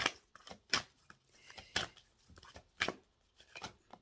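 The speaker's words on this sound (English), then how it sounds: "I'm going to shuffle the cards" Crisp papery slaps and riffles of tarot cards being shuffled, arriving in quick irregular bursts close to the listener with short pauses between.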